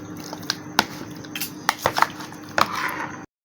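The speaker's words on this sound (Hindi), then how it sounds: "अब इसके अंदर सारा मिक्स करना है।" Fish being mixed with marinade in a bowl, a spoon or hands clinking and scraping against the dish in scattered soft knocks and squelches, fairly quiet and close.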